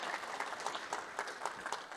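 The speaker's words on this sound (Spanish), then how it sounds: "Nuevamente un aplauso para el ingeniero." Audience applause for an engineer at a conference on the circular economy in small businesses, a soft, steady patter of many hands at a distance.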